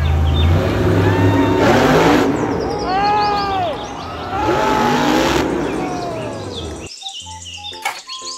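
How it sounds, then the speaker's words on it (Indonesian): A toy monster truck plays a loud revving engine sound with rising and falling pitch sweeps, then ends in a few brief electronic beeps. "Mobil truk monster"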